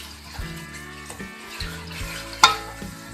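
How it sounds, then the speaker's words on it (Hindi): Cubed potatoes frying in a pan, a soft continuous sizzle with clattering stirs and a sharp clink near the end, close and short. "आलू हमने क्यूब्स करके धो के रख लिए थे, इसको थोड़ा सा हम फ्राई करेंगे"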